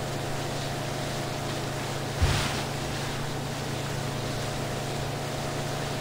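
A boat engine runs at full throttle in the Far Cry 3 video game, a steady, loud drone with a low hum, mixed with rushing wind and water noise, and one brief thump partway through.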